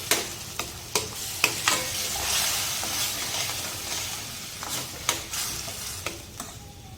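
Onions sautéing in a pan, with a soft continuous sizzle broken by repeated sharp clinks and scrapes of a spoon stirring, close up and with no talk.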